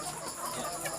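Chickens cluck softly on a farm housing about a thousand birds, a brief, faint burst of overlapping hen calls.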